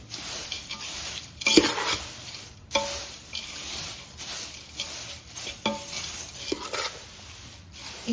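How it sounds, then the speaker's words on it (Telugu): A spoon stirs a tempering through flattened rice (poha) chivda in a pan. Repeated scraping and clinking strokes come up close, with a soft dry rustle between them. "తాలింపు వేసి అటుకులను కలుపుకోవాలి."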